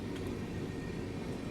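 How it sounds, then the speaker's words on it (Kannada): Chikkamagaluru Express train rumbling steadily past at close range with a dense low roar and continuous rail noise, no voices. "ಚಿಕ್ಕಮಂಗ್ಳೂರು ಎಕ್ಸ್ಪ್ರೆಸ್ ಅದು"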